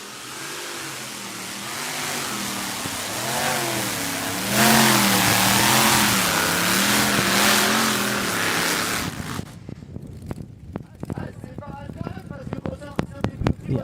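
A two-wheel-drive pulling tractor's engine roars and revs hard at a tractor-pulling championship in Bernay, France, holding a loud wavering drone before cutting to sharp crackling bursts, with a commentator talking over it.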